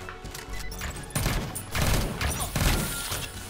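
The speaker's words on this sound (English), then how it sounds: "Blew up the wall for no friggin' reason." A weapon blasting through a wall in the video game Neon Chome: a burst of rapid, loud booming explosions with crashing debris, sounding in quick successive waves.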